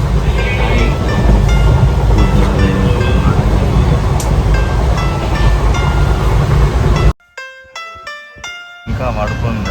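Passenger train running on the rails, a loud steady rumble and rattle that suddenly cuts out, followed by a few sharp electronic tones and then the rumble resumes.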